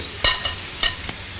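Fish fillet in a sugary marinade sizzles on a braai grill, a steady hiss broken by two or three louder crackling bursts, heard close and without talk.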